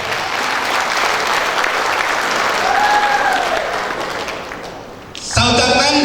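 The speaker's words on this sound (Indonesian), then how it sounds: "Berikan aplaus yang meriah untuk beliau Bapak Taufik Nur Hidayat." Audience applause at a recognition day ceremony, loud sustained clapping from a crowd that tapers briefly before a sharp burst of amplified sound near the end.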